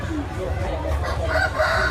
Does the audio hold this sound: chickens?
yes